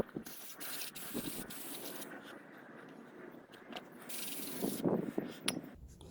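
Brake cleaner sprays in short hissing bursts onto a Ford Mondeo ST220's brake caliper, with faint clicks and handling noises between the jets, all fairly close and fairly quiet.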